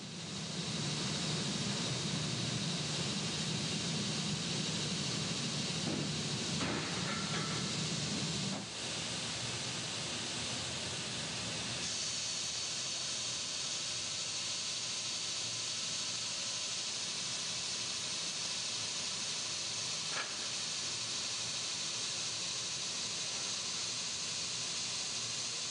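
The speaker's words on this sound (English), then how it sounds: "Sanding removes the dings and dents the tank picks up in manufacturing." Sanding an aluminium dive tank in a factory gives a continuous, loud abrasive hiss that shifts tone partway through and carries on steadily.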